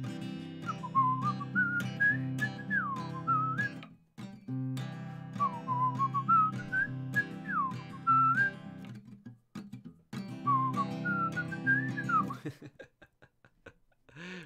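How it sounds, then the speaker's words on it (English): A person whistles a melodic tune in three clear phrases separated by short pauses, close and fairly soft, with faint chuckling around it. "And then he just whistles."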